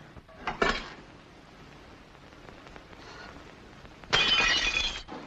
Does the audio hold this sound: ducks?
no